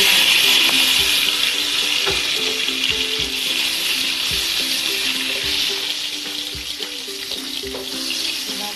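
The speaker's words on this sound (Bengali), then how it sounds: "ভেজে রাখা পটলটা আমি আবার তেলে দিই।" Already-fried pointed gourd goes back into a little oil with black cumin and bay leaf for a Bengali posto dish, producing a continuous broad sizzle that eases slightly toward the end.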